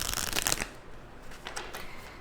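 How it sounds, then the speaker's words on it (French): Tarot cards being shuffled and drawn, a dense papery riffle for about half a second, then softer card slides and flicks, close and fairly quiet with no talking. "Je vais tirer une carte de tarot sur l'accusation."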